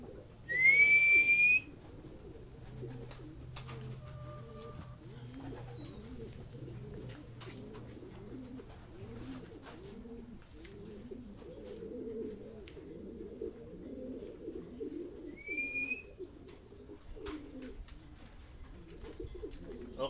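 Soft, low homing pigeon cooing rolls on steadily throughout, with a couple of sharp high whistles near the start and again later.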